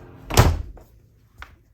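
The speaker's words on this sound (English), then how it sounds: "Closing the door." A studio door swings shut with one loud, close thump, then a smaller knock follows about a second later, with near silence in between.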